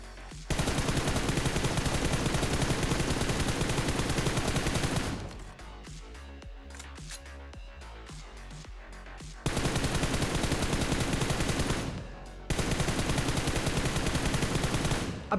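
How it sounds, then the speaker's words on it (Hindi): M249 machine gun fire in the video game BGMI, sustained dense automatic bursts lasting several seconds each, separated by short pauses with quieter game sounds. "दूसरी तरफ से भाई भयानक M249 वगैरह चलने लग गई"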